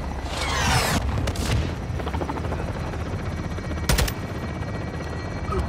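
Artillery strike on a marked gate in Call of Duty Modern Warfare 2: a loud whooshing incoming rush followed by booming blasts and a sharp crack near four seconds, over a constant roaring helicopter-like rumble.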